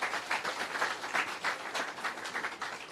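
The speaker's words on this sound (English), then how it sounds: "Another round of applause for the kids." An audience claps for schoolchildren at an outdoor scenic avenue launch in Jamaica, fairly faint, pulsing applause in uneven surges with no talking over it.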